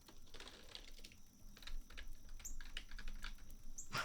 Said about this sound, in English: Nice, fancy gamer keyboard ASMR.